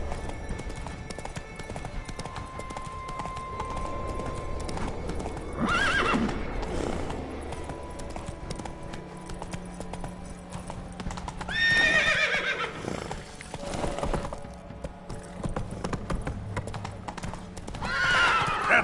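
Roach, a horse in The Witcher 3, trots with rhythmic clip-clop hoofbeats that run throughout. Two neighs break in partway through, with game music and ambience underneath.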